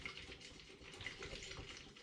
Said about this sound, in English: So I'm just going to agitate this now by just giving it a little swirl around.